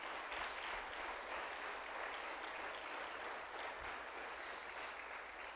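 At an Easter Sunday church service, the congregation claps in a steady, even wash of applause that stays faint and distant throughout.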